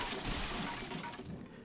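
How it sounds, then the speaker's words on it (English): Wooden crates being smashed in the video game Max Payne, a quick run of cracking, splintering breaks, fairly faint and close, without speech. "Just keep just keep smashing the crates."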